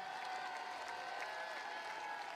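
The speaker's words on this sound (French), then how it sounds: "Vous pouvez les applaudir." Audience at a French Communist political rally applauding striking workers, a sustained, even wash of many hands clapping at a distance, continuous throughout without a break.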